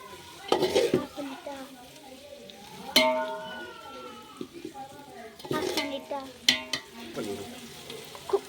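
Tomatoes being stirred into frying biryani masala in a pan, with soft sizzling and several scraping, clinking strokes at irregular intervals, and a voice talking over it.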